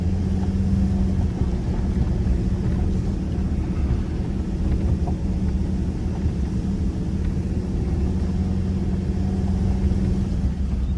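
Vehicle driving a bumpy hard gravel track with potholes on the 309 Road in Coromandel, New Zealand, a steady loud low rumble of engine and tyres on stones throughout, with no talking.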